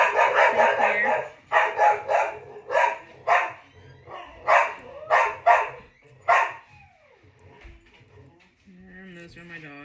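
Several dogs barking outdoors in a rapid series of loud, repeated bursts that stop after about six seconds, followed by a quieter stretch with a faint whine or squeak.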